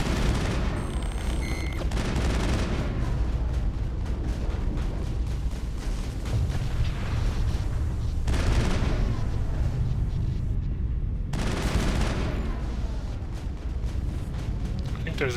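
Sustained, dense gunfire in the sci-fi shooter Mass Effect during a fight up the Citadel Tower, loud and continuous with bursts of heavier blasts and a muffled voice beneath.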